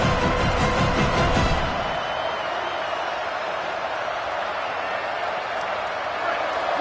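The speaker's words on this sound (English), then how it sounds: "Decibels rising as the crowd gets behind this defense on third down" Stadium crowd at a college football game, Tennessee versus Indiana, roaring on a third down; a dense, sustained wall of cheering noise from a large crowd with a louder burst at the start, then steady.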